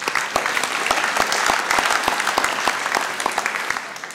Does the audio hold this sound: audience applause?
yes